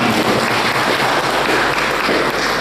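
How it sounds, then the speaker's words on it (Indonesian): Sustained crowd applause at a civil servants' meeting, loud and dense, steady clapping from many hands throughout without a break. "Tepuk tangan biar kita kenal."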